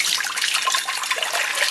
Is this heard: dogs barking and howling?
no